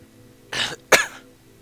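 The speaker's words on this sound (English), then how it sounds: "coughing a lot." Two short, throaty coughs from one person suffering an allergy, close to the mic, the first a harsh rasp and the second a sharper burst, with quiet between them.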